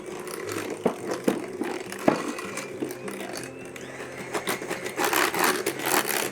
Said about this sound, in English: using the same mixer in your next bowl with the cream cheese and the sugar, just beat it up real gentle till it's creamy